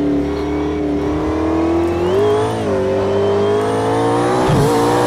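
McLaren P1 in the Project Cars 2 racing game, engine note rising and falling as throttle is fed in out of corners, loud and continuous with a brief squeal near the end.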